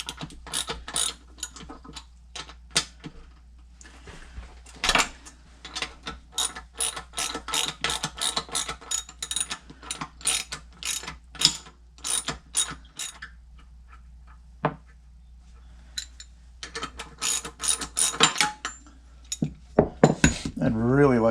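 A ratchet wrench clicks in quick repeated bursts while bolts are broken loose on a Mega Moto 212 mini bike during a Tillitson cam upgrade, with short pauses between strokes and a faint low hum underneath.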